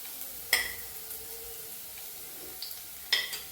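Chopped onions frying quietly in a pan, with a soft sizzle under two sharp clinks of a spoon stirring against the pan's metal side.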